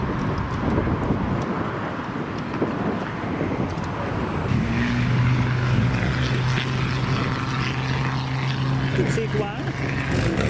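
A Triumph Herald pulls away from a car show, its engine a steady moderate drone that swells a little as it moves off, with another vehicle's hum and crowd chatter mixed underneath.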